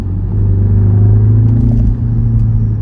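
A 2026 MINI Countryman JCW accelerates hard in go-kart mode, a loud, steady engine drone with a deep rumble from inside the cabin, holding strong throughout.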